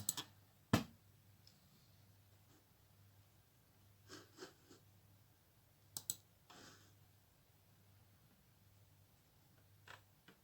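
A handful of sharp computer mouse clicks, spaced out over a quiet room hum, the loudest one early and the others softer and scattered.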